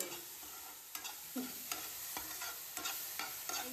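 Food shallow-fries in oil with a constant sizzle. A spoon or spatula strikes and scrapes the pan several times at irregular intervals. There is no speech.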